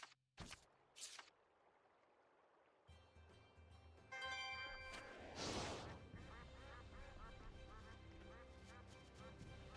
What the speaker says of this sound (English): make the duck frog make sounds every once in a while